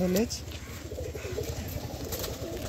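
Pigeons in a home loft of Kalsira and Fulsira breeds coo in a soft, low, repeated throb, with a brief clearer call at the start, steady under someone talking nearby.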